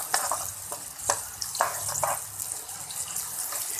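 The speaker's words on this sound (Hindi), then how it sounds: "और इसी के साथ मैं ऑनियन ऐड कर दूँगी। बिस्मिल्लाहिर्रहमानिर्रहीम। फिर अच्छे से इसको फ्राई कर लेंगे ज़रा।" Onions with black pepper frying in a pan sizzle under a run of sharp utensil clicks and scrapes from stirring, close and moderately loud.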